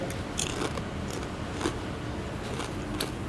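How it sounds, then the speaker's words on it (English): Biting into a crunchy, folded Cape Cod kettle-cooked potato chip, a few sharp close crunches and crackles spaced across a quiet background with no talking. "It's folded, which means there's like double layer of crunch happening."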